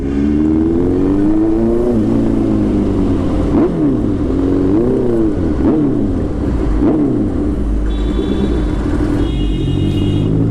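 A Honda CB650R motorcycle with an ECU reflash and full system exhaust rumbles loudly nearby, its engine note rising and falling through repeated revs and gear changes over a constant deep roar.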